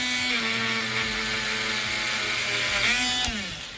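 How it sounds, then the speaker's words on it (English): A Dremel rotary tool fitted with a fine, soft stainless steel bristle brush whirs steadily while cleaning shale matrix from a Cambrian trilobite fossil, a continuous high-pitched whine with slight pitch dips as the brush loads against the stone. "a Dremel with a fine, soft stainless bristle takes off most matrix when it's in the softer"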